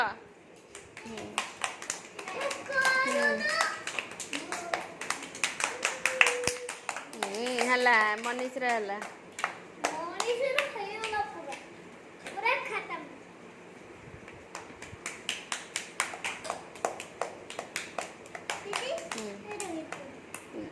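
Preschool children clap their hands in quick, uneven bursts during a classroom activity while kids' voices chatter and call out over the clapping throughout.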